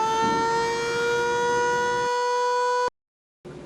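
A loud quarry blast warning siren at Lithonia Quarry holds a single sustained tone for nearly three seconds, cuts off abruptly, then starts again after a short silence.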